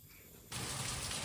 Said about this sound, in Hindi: रात में खाना बन रहा था बाहर और इतने में आ गई अचानक से बारिश तेज